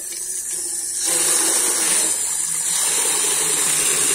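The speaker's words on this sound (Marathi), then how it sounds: "त्याला पाणी घालूया." Water poured onto a newly planted hibiscus plant, a steady gushing splash that swells after a second and continues evenly, close by with no talking.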